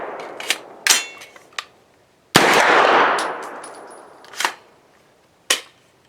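A Torque magazine released from a PWS PCC pistol, a sharp metallic clack as it drops free, set among several other crisp clicks, snaps and a brief rattling clatter, with no talk.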